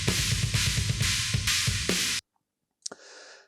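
Drum mix with rototoms, a busy groove of cymbals, kick and snare that stops abruptly, followed by near silence and then a sharp hit with a short ringing tail.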